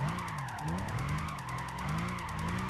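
A Nissan GT-R drifting in Gran Turismo 5 gives a sustained, wavering tire squeal over a steady engine drone. The screech rises and falls in loose waves, loud and continuous throughout.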